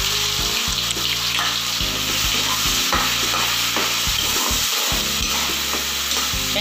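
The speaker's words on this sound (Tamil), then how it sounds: "வெங்காயம் பச்சை வாசனை போகிற வரைக்கும் நல்லா வதக்கி எடுக்கணும்." Onions sauté in melted butter with bay leaf, cloves and cinnamon, a steady close sizzle with stirring scrapes throughout and no talk.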